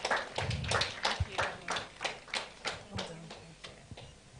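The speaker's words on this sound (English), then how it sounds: "Please give her a round of applause." Scattered audience clapping for a speaker at a business forum on brand building, distinct individual claps spaced fairly evenly and fading gradually, heard from a distance at low level.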